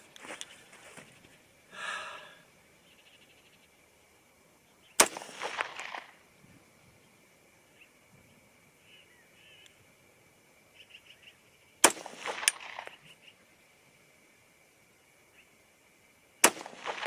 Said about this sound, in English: Here we go, 3 shots.